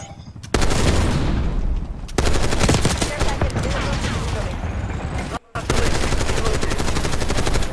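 Rapid automatic gunfire in a Call of Duty video game, loud dense bursts of machine-gun shots with brief gaps between volleys, along with in-game voices calling out.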